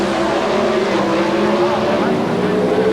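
Cars drag racing at the 1991 NHRA Canadian Sports Nationals at Sanair roar loudly and steadily, a dense, sustained engine drone holding high intensity throughout.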